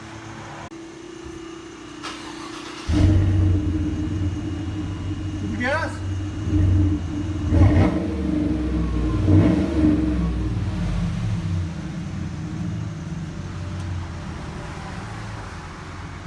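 A 2016 Chevy Silverado Z71 pickup with dual Flowmaster Super 40 exhaust rumbles deep and steady with a few revs, while people talk nearby over the low exhaust drone.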